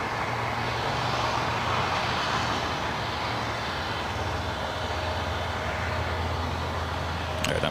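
A Southwest airliner lands on runway 25 left at Los Angeles International Airport, heard as a steady, broad engine roar that holds for several seconds, with a low rumble underneath and no voices.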